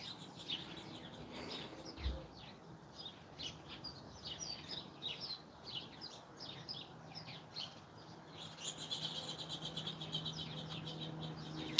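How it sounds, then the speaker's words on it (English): Birds chirping outside on a quiet afternoon, many small distant tweets and calls repeating irregularly throughout, with a faint insect-like buzz and low background rumble. "I wish I could show you guys the birds"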